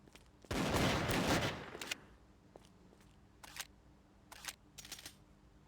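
Video game gunfire while the character walks, one loud burst of rapid shots up close followed by a few scattered single shots and clicks.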